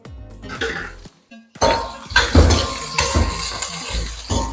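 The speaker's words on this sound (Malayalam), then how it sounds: "നന്നായിട്ടൊന്ന് മിക്സ് ചെയ്തെടുക്കുക പച്ചമണം മാറുന്ന ആ ഒരു സമയം വരെ നന്നായിട്ട് ഇതൊന്ന് ഇളക്കിയെടുക്കുക" Green chillies and curry leaves are stirred in a pan for a pickle, with a spoon clinking and scraping against metal in uneven bursts close by, a short pause, then louder, busier stirring.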